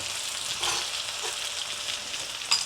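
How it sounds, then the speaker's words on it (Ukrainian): Onion frying until golden in a pan for chicken with mushrooms in wine sauce, a soft, even sizzle heard close up with a faint scrape or two and a brief clink at the end. "Так, цибулька починає золотитися."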